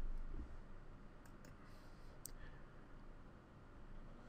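Computer mouse clicks on a Windows 8 PC, a few faint sharp clicks, two close together and one after, in a very quiet room with no talk.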